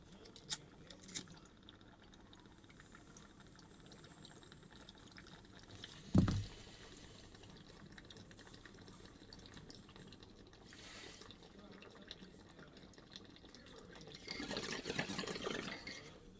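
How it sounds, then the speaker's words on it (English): Water bubbles through a small silicone baby Yoda bubbler pipe in a few soft gurgling bursts, one sharper pull midway and a longer bubbling stretch near the end, with distant waves crashing behind. "I got the cutest little baby Yoda bubbler pipe that I'm smoking out of me."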